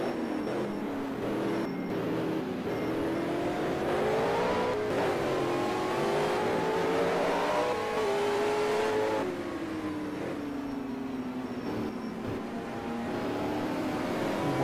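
Touring car engines, a Jaguar and a 5-litre Holden, drone steadily around the Wellington street circuit in 1985, their pitch rising and falling through gear changes as the cars race on and stay loud and continuous throughout.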